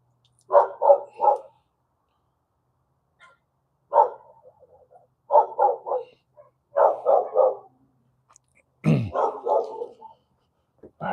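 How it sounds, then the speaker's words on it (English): Two dogs bark near a home workshop in short clusters of two or three sharp barks separated by pauses, moderately loud and a little distant, with a lower growl-like bark near the end. "Both of them are barking."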